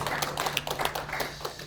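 Congregation at a Korean church prayer meeting clapping, a quick run of sharp hand claps close by with an uneven rhythm and a steady low hum underneath.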